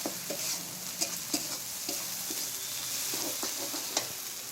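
Turmeric sizzles in hot oil in a frying pan, a steady close hiss with occasional light clicks of stirring.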